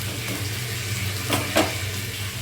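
Mutton fat fritters crackle in hot oil in a pan while being turned, a continuous close sizzle with a couple of brief bursts and a sharp knock at the very end.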